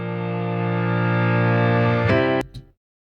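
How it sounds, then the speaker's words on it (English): Reverse piano swell in a rock mix of Green Day's 21 Guns, made by reversing a piano's reverb in Reaper: a sustained tone grows steadily louder, then cuts off sharply with a short tail. "A reverse piano swell, I have it under FX."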